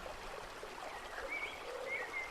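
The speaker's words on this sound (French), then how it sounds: "Le bruit de cette cascade vous fait envie." Water rushes down a waterfall in a natural setting, a steady, fairly soft broadband flow with a few high birdlike chirps over it near the end.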